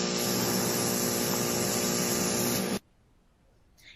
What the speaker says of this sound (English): it also has a spray, so you can hear like a little bit of a spraying going on as well